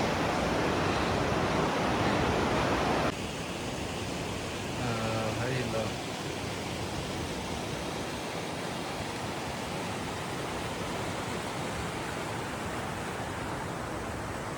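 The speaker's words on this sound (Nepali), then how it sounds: "कलकल बगिरहेको होला" Mountain stream below the Api Himal range, a dense steady rush of flowing water, louder at first and then continuing evenly, heard close with faint voice traces.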